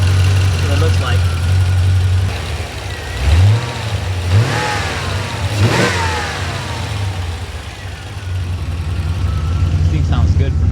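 C4 Corvette V8 idles steadily after an oil change, with a deep, loud rumble heard from the rear; a couple of blips of the throttle rise and fall mid-clip before it settles back to idle.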